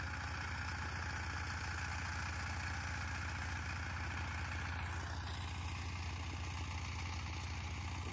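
A Sifang 20hp diesel engine power tiller with a DF 48 blade ploughing a field for onion seeding gives a steady, throbbing low drone that continues unbroken and moderately close.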